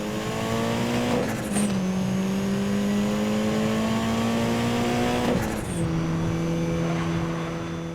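Racing cars from the 2012 Need for Speed video game, engines droning loudly and steadily with two sharp gear shifts where the pitch drops and climbs again, a constant close roar.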